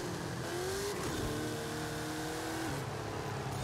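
A Jeep in Forza Horizon 5 sliding sideways and scraping a wall, its engine whining at a steady high pitch that dips and climbs, with tire noise throughout and no voices.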